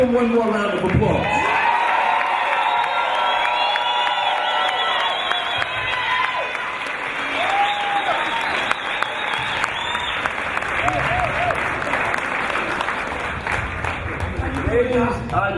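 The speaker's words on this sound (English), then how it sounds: "Let's give him one more round of applause." A Brooklyn lecture crowd gives Dr. Sebi another round of applause, thick continuous clapping with scattered cheers and shouted voices, loud and near, gradually thinning toward the end.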